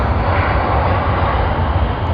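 A Juneyao airliner in a colorful petals livery passes at Sydney Airport with a loud, steady jet engine roar that fills the whole stretch, close and unbroken, with no voices.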